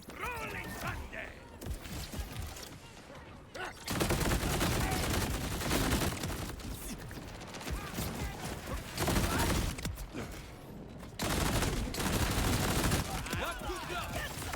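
Rapid gunfire in a shooting video game rattles in long sustained bursts and volleys, loud and dense, separated by brief quieter gaps with lighter effects.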